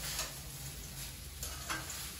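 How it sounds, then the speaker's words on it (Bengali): Fried rice sizzles in a hot pan with a steady frying hiss as it is stirred, with a few soft scrapes and taps from the utensil over the continuous crackle. "তো এবার আমি নাড়াচাড়া দিয়ে দিচ্ছি"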